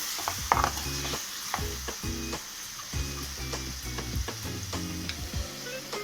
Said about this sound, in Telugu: ఇలా ఉల్లిపాయ ముక్కల్లో టమాటా ముక్కలు వేసుకొని మళ్ళీ ఒకసారి కలుపుకుందాం